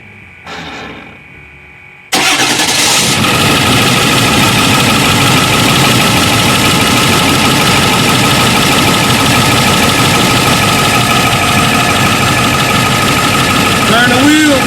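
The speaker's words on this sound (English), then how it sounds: "So anyway, I'm gonna have Big Boy crank it up and let's see." Ford F350 Super Duty pickup engine cranking over and catching, then idling loudly and steadily at close range, with a voice briefly audible just before it starts.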